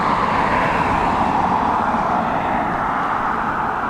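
An ATR turboprop airliner arriving at Dublin Airport in high winds gives off a steady, broad engine drone at moderate distance, constant throughout with no voices.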